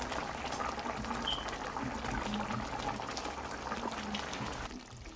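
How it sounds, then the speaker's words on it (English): Potatoes boiling in a pot of Guyanese-style lamb curry, a steady bubbling simmer heard close and fairly quiet, with no talking over it. "I'm just waiting for the potato to boil"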